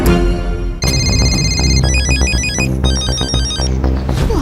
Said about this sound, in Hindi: मैं हंस को फोन करती हूँ।